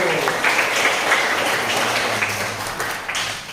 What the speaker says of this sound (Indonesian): Aplaus dulu untuk kelompok 1.